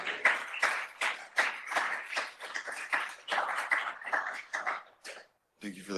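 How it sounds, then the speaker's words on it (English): An audience at the end of an academic talk claps in a dense burst of applause, fairly close and lively, tapering off briefly before a final flurry. "Thank you for the claps."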